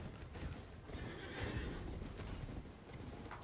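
A horse in the video game Elden Ring whinnies amid the clatter of hooves, the neigh rising in the middle over a busy, noisy game background at moderate loudness.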